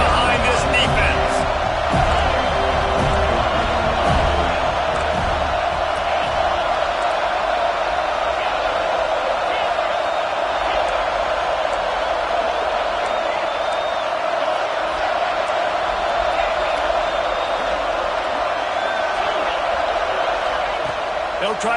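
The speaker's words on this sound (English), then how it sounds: "Big third down as the crowd gets behind this defense." A football stadium crowd roars steadily behind a defense on a big third down late in the fourth quarter of a Florida State game, a dense, sustained wall of cheering with a play-by-play commentator talking over it.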